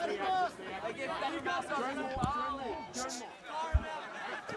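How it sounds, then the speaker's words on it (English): Crowd chatter and banter rise from spectators behind the commentators at an XFC mixed martial arts event, a steady murmur of overlapping voices with a few louder shouts and brief sharp thuds. "some pretty good banter coming from the crowd behind us"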